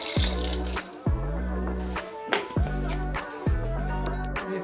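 Water is poured into a grinder jar holding masala and soaked rice, in four or five close gurgling, glugging bursts with a ringing, resonant tone.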